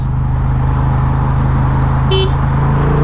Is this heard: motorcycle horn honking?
yes